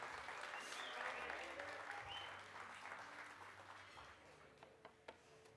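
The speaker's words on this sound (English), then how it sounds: "Round of applause for Fanie's milk drinks, folks." An audience at a barista championship final claps for a competitor's milk drinks, with soft, distant applause that tapers off into a few scattered claps.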